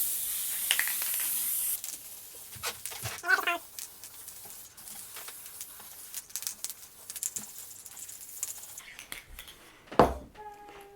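A loud hissing spray onto upholstery foam runs for about two seconds during a mid-century modern ottoman rebuild, followed by scattered clatter, rustling and handling noises with a sharp knock near the end.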